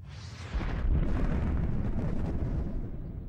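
Deep, continuous roaring rumble of volcanic explosions on the early Earth, loud and dense with low-frequency power, swelling after a brief lead-in and sustained throughout without speech.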